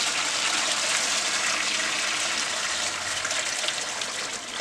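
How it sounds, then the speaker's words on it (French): Boiling water pours and gushes over a chandelier being cleaned, a steady dense hiss of flowing liquid that stays loud and close throughout, with no speech. "Et je pense que vous allez même entendre l'ébullition qu'il y a dessous"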